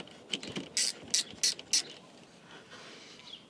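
A nut on a battery charger's terminal connection being loosened, with a short run of sharp metallic ratcheting clicks, four quick bursts, close up and quiet.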